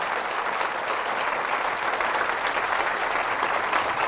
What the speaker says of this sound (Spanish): Fuerte el aplauso al Rey de Reyes